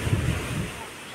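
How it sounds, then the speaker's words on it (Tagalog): Wind blows hard by the sea, producing a steady, rumbling buffet against the microphone along with a wash of surf, with no voices. "Hangin."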